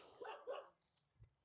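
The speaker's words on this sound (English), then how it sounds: "that's my dog." A dog barks twice in quick succession, short and moderately distant, followed by a few faint clicks and a soft thump in an otherwise quiet setting.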